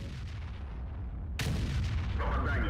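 In the World of Tanks tank battle game, a heavy cannon fires with a sudden loud boom partway through, after which a long rumbling echo hangs over a steady background of engine and battlefield noise.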